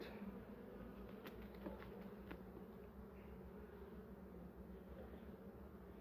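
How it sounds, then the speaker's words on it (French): Honeybees buzz in an opened beehive as a dense, steady, faint hum, with a few brief clicks on top and no voices. "j'ai peur d'abîmer les abeilles"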